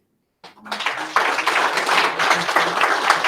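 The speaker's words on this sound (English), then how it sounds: "big applause to the people watching right now on LinkedIn, YouTube, and Facebook" After a moment of silence, applause breaks out during a live-streamed pitch event, a crowd's clapping building quickly and then holding steady and full.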